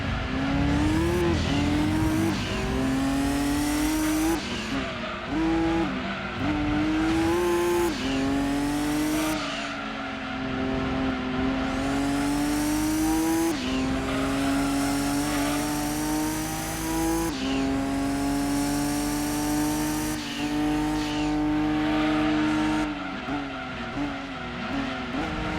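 Gran Turismo 2 race cars on the PlayStation 1 Rome City Course endurance race, running on cold tires: a loud, steady stream of revving engines rising and falling through gear changes, with tire squeal through the corners and no talking.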